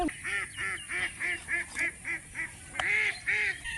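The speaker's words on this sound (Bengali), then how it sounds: "আমি যেখানে যাচ্ছি হাঁসগুলো পিছন পিছন সেখানেই যাচ্ছে।" Domestic ducks honk and quack close by in a village yard, about a dozen loud nasal calls in an uneven rhythm with brief pauses, no talk.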